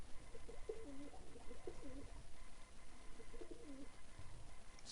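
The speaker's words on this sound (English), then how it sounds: "This is actually the tamest pigeon I've ever had." A tame pigeon coos in soft, low, throaty phrases, several rolling calls close by over a faint background hiss with no talking.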